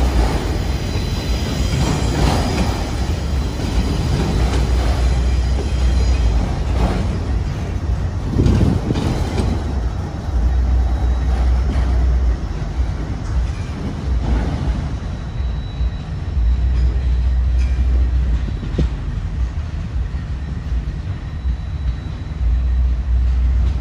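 A local freight train led by SD40-2 diesel locomotive 3264 and hauling auto racks rumbles past close by, a loud continuous roar of heavy engine and rolling wheels with faint metallic squeals, sustained throughout.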